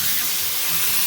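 Steak searing in a pan with olive oil, just flipped to its second side: a steady, loud, broadband sizzle and hiss running continuously without pause, no voices over it.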